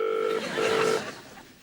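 A phone line ringing: two bursts of a steady electronic ring tone with a short pause between them, then quiet line noise.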